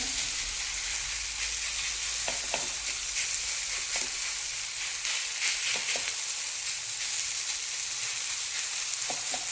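Thin besan flatbread pressed flat and cooking in a pan, a soft continuous sizzle with a few faint clicks, steady throughout and heard alone.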